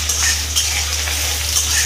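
Green chili and onion fry with black cumin in a hot pan for an ash gourd stir-fry, giving a steady loud sizzle with occasional scrapes of stirring, close and continuous.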